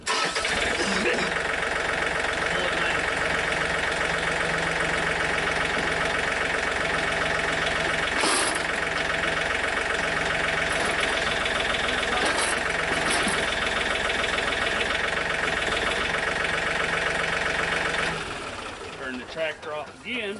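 A John Deere 4105 compact tractor's engine idles steadily at close range, a constant droning hum with a slight mechanical rattle that runs on unchanged before cutting off and fading near the end.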